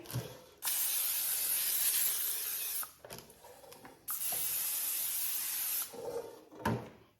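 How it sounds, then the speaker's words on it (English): Two long bursts of olive oil cooking spray hiss onto an air fryer basket, each lasting a couple of seconds, close up, separated by brief quiet handling noises and a final short spritz. "So you want to spray the basket with your olive oil spray."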